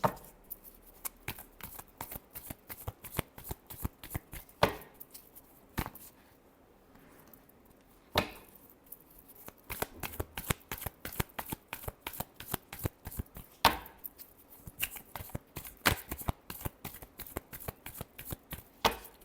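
Tarot cards shuffled by hand in rapid bursts of crisp riffling and slapping, close and dry, with short pauses between rounds and no talking.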